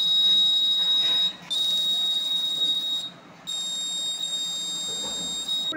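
An Arduino-based smart blind stick's buzzer sounds a loud, steady high-pitched electronic beep, held in long tones broken by two short gaps.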